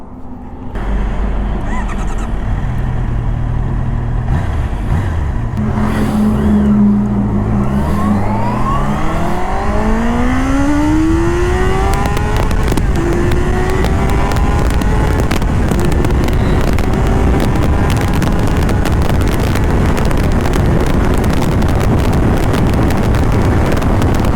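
A Honda CBR 650R motorcycle on a congested highway revs hard and climbs through the gears, its engine note sweeping upward in repeated rising pulls before settling into a loud, sustained high-speed roar mixed with wind buffeting.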